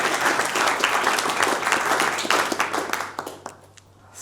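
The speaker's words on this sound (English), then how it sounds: "Let's give a warm round of applause to Raffaella, our first speaker." An audience at a film and AI conference gives a speaker a warm round of applause, dense clapping that holds steady and then thins out and fades over about four seconds.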